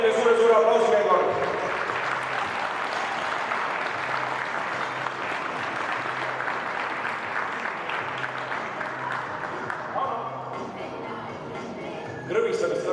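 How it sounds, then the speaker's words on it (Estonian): A sustained round of audience applause fills a sports hall in Märjamaa during a floorball final awards ceremony, loud and steady for about ten seconds before thinning out, with a brief burst near the end. "Rapla hokiklubi, veel kord kolmas koht, teile suure aplausi veel kord."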